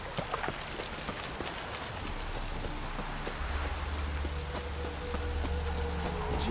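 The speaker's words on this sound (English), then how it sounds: "Witches have conjured rain." Steady rain falls in The Witcher 3, a dense, even hiss of drops on surfaces with scattered sharper patters. A low hum comes in partway through, and no voices are heard.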